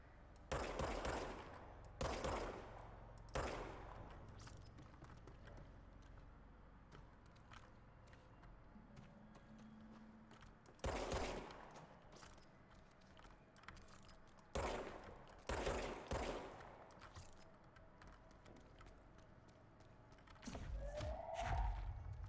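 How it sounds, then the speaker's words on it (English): In the Control video game, gunfire hits possessed enemies in loud, clustered bursts of shots and bangs, with quieter rumbling gaps between the volleys. "shooting the possessed people makes them explode!"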